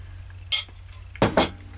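Metal cutlery clinks against a bowl of stew, two or three short, close, bright knocks spaced apart over a low background hum, with no talking.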